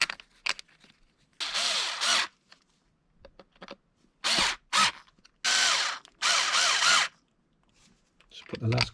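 A power drill drives screws into a custom fan guard on a 1/5-scale RC car, Arrma Outcast or Kraton 8S, in several short loud bursts separated by quiet handling clicks and rattles, with a voice briefly heard.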